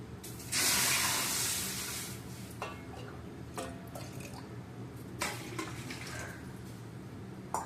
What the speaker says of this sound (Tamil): அந்த கப் அளவுக்கு 2 கப்பு தண்ணி ஊற்றிக்கணும்